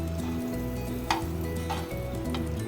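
Bread toast topped with besan batter cooks in a buttered pan, giving a steady close sizzle and fry with a few brief sharper crackles and stirring scrapes.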